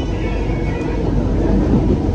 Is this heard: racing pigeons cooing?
no